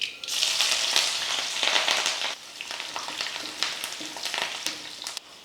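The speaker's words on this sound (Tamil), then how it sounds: "கடுகு பொரிஞ்சதுமே எண்ணெயில் போட்டு இது பொரிய விட்டுட்டு" Mustard seeds, green chillies and garlic fry in sesame oil for a pickle, a close, loud sizzle with sharp popping crackles and stirring, then the sound eases slightly.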